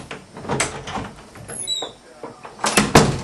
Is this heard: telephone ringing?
no